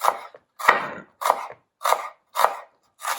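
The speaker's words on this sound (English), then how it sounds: "So you slice the onions." Knife slicing through onions on a cutting board, six crisp, even cuts at a steady rhythm, close and clear, with no voices.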